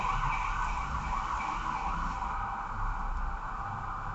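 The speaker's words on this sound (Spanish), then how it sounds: "Ahora pasa una ambulancia." An ambulance siren sounds in the street as it passes by, a loud sustained wailing tone over low traffic rumble that holds steady and begins to ease toward the end.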